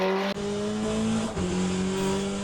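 A race car pulling out of the pits in Le Mans Ultimate, a steady engine drone with a gear change shifting the pitch.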